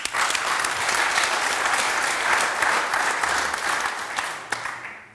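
Studio audience applause welcoming guest Didi Thurau, a dense, steady clapping that holds for several seconds at full strength before tapering off at the end.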